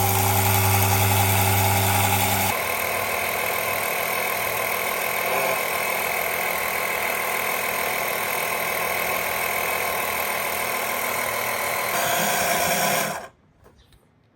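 A warm Troy-Bilt TB230 lawnmower engine idles with a steady, loud, buzzy drone and a shift in tone early on, running alone before cutting off abruptly near the end.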